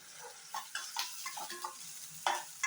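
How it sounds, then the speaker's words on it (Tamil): Onions sauté in oil in a kadai, a soft, quiet sizzle punctuated by a few light stirring scrapes and taps. "வெங்காயம் போட்டுக்குங்க. அது நல்லா வதங்கட்டும்"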